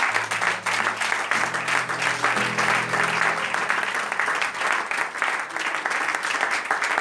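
A church congregation at a Sunday morning service applauds the Lord with loud, sustained clapping that fills the room evenly, while low voices murmur and call out beneath it.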